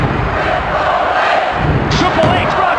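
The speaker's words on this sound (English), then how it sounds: "Why are they cheering for him?" A wrestling arena crowd roars and cheers continuously at a loud, dense level, swelling slightly toward the end, with scattered shouts rising above the mass of voices.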